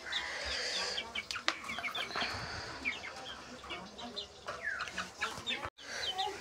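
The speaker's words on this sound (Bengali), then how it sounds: "তো চলো আগে মুরগিগুলো ছাড়া যাক, আগে ছেড়ে নেই মুরগিগুলোকে" Desi chickens, a rooster and a hen, cluck busily as they are released, the calls overlapping in steady bursts over outdoor background noise.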